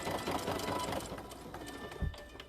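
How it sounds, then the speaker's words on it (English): A sewing machine top stitches fabric about an eighth of an inch from the edge for a lip balm key ring, a steady close mechanical whir that slows and fades near the end. "So you want to sew, this is top stitching, so you want to do it at about 1/8 of an inch."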